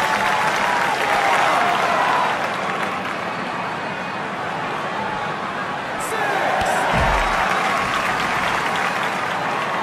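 A wrestling arena crowd in WWE 2K19 roars steadily and loudly throughout, a dense wash of cheering and applause with a brief thump near the end.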